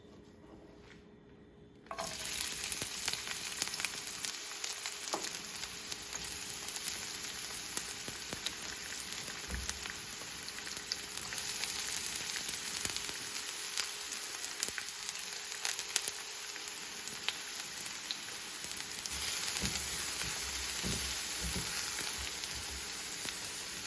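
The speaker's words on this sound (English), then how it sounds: "So we will add 2 tablespoons of olive oil or canola oil, and once it heats up we will add onions to it." Onions are dropped into heated olive or canola oil and fry with a steady, close sizzle. The crackle keeps going on its own with no talking, after a brief quiet start.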